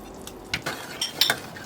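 Butter and lemon juice are stirred into a pot of simmering sugar syrup, with a few soft scrapes and light metallic clinks of a spoon against the pot, close and quiet.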